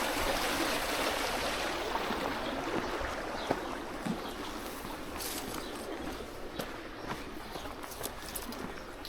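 Water runs steadily through irrigation channels across a field, a continuous broadband rushing and trickling that stays fairly loud and close, with occasional faint footsteps or small knocks on top and no talk.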